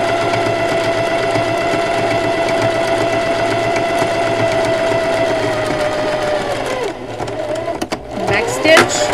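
A sewing machine runs steadily while back stitching an X across a scrubby dishcloth, a continuous whirring hum with a faint tonal whine under talk, then breaking into short starts and stops near the end.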